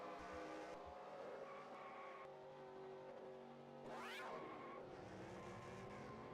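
A race car spins out in a racing video game at Las Vegas while another car takes a big hit into turn one. Steady engine drone runs throughout, with a sharp rising-and-falling tire squeal and skid near the middle, loud and close.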